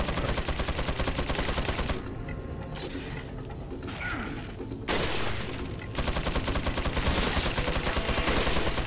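Rapid gunfire from the video game Resident Evil 4, dense repeated shots in bursts that rattle almost continuously, loud and close, with a short quieter stretch in the middle before the firing resumes.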